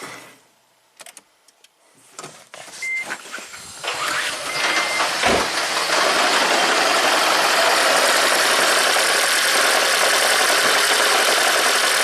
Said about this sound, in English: See how it changes? 2-cylinder misfire, single-cylinder misfire.